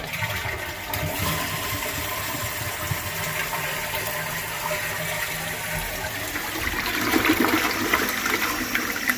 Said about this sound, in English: when we flush the toilet, it'll clear any restrictions.